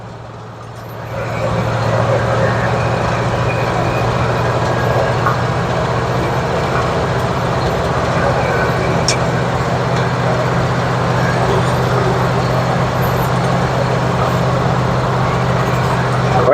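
A 1950 Ford F1 pickup with a dropped front axle cruises straight down a road, heard from inside the cab as a steady low engine drone and continuous road rumble that hold at an even level throughout.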